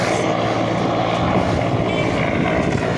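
Engine and rotor noise from a presidential helicopter coming down to land at a stadium in Pabna, heard from a rooftop as a steady, loud, broadband drone that continues throughout without any talk.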